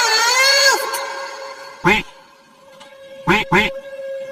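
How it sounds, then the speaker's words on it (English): A voice sings a duck's quack in a children's phonics song, giving three nasal quacking calls spaced apart over soft musical accompaniment. "Quack, quack, quack,"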